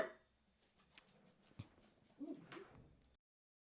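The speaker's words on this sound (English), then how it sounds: "I don't know what my guy Alfred's barking at" A dog barks and whimpers faintly in short yips, quiet and somewhat distant, before the sound cuts off abruptly.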